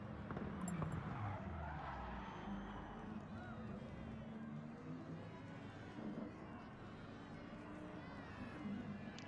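Race cars in a Gran Turismo-style league race at Catalunya roar together in a dense, continuous engine drone with occasional tire squeal, with people talking over it throughout.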